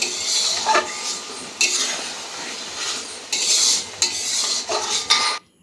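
Spice masala stirred and sautéed in a pan, a spoon scraping and clinking against the metal in repeated bursts, with a light sizzle underneath, close and moderately loud, ending abruptly in silence.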